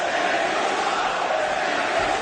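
A wrestling arena crowd roars steadily and loudly at Sammy Guevara, a dense, unbroken wash of voices with no pauses.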